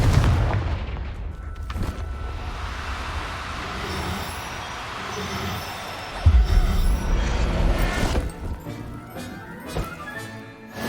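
Confringo fire spell blasts in Hogwarts Legacy, a loud rumbling explosive burst followed by a second heavy impact partway through, with crashing debris and a booming tail.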